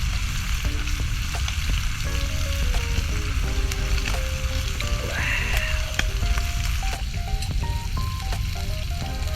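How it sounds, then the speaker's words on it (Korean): Garlic fries in meat fat on a camping grill during an island backpacking trip, giving a close, continuous crackling sizzle with scattered clicks and light scraping throughout. "역시 마늘은 고기 기름에 구워야지"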